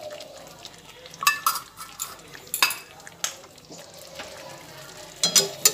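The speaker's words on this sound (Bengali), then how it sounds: "ফ্রেশ ক্রিমটা দেওয়ার পরে আবার সেটা ভালোভাবে মাংসের মধ্যে মিশিয়ে দিচ্ছি।" Fresh cream being stirred into chicken cooking in a pan for murg malai, a soft sizzle under irregular scraping and clinks of a spoon against the pan.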